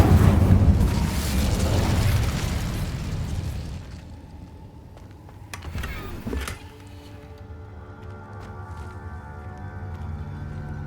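A Confringo spell in Hogwarts Legacy erupts in a loud roaring blast that rumbles and fades over several seconds, followed by a quieter sharp burst and a low lingering hum.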